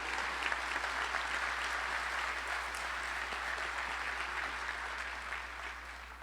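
Crowd at a city's state-of-the-city address clapping steadily, a sustained roomy applause over a low constant hum, tapering slightly toward the end.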